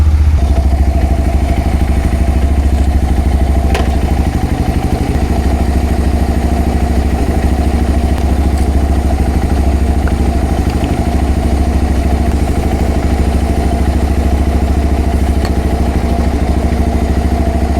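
A motorcycle engine idles steadily and loudly throughout, with a constant low rumble and faint mechanical clatter.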